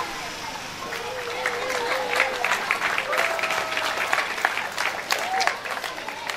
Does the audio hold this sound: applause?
yes